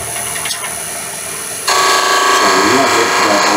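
A wood lathe switches on partway through, a piece of wood already roughed round with a roughing gouge, its steady motor whine and rattling hum jumping up loud and continuous after quieter workshop background.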